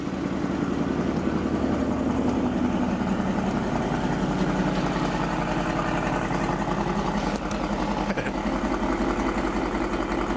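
An AMG car engine with newly installed downpipes idles at close range, a steady, loud, deep rumble that holds even and unbroken for the whole stretch.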